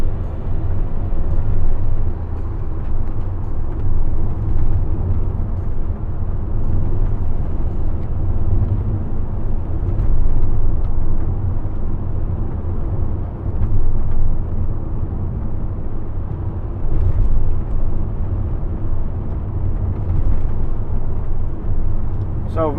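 A 2015 Toyota ProAce 2.0 HDi van on the move, its steady low engine and road rumble droning continuously and fairly loud throughout, with someone talking over it.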